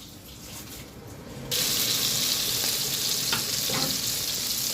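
Butter sizzles loudly after it is dropped into a hot pan, the frying hiss jumping up suddenly and then holding steady with a bright, crackling texture.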